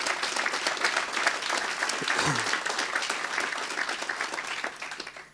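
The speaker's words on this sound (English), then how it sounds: "let's just give a round of applause to all the speakers" Audience applause at the close of a discussion panel at the PIPELINE 2015 conference, dense steady clapping from a crowd lasting throughout and tapering off at the end.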